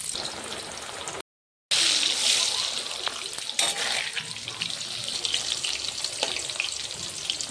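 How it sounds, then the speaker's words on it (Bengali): Salted potatoes dropped into hot oil, a busy crackling sizzle that surges after a short gap, with bubbling and occasional stirring clatter for a mutton dish. "তেলটা গরম হয়ে গেল, আমি এবার আলুগুলো দিয়ে দিলাম।"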